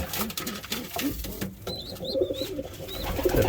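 Pigeons coo in soft, repeated low calls close by, with a few brief higher chirps and light rustling throughout.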